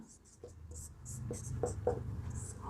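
A pen writes by hand on paper while a trigonometry problem is solved, producing soft, quick scratching strokes close up under ongoing talk.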